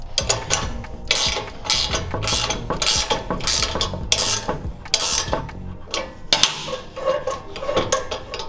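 Ratcheting wrenches tighten half-inch bolts on a vintage off-road go-kart kit, giving a loud, close, continuous run of rapid metallic clicks in bursts with brief pauses, and no talking.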